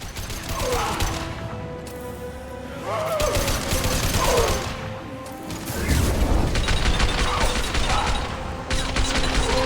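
Gunfire from Mass Effect 2 on a derelict Reaper ship comes as dense, rapid bursts of weapon fire with mechanical clatter and occasional impacts, loud and continuous over busy game sounds.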